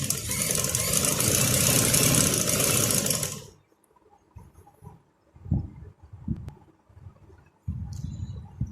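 A sewing machine stitching a shalwar runs loud and steady for about three and a half seconds, then stops. Quieter handling sounds and short low bursts follow.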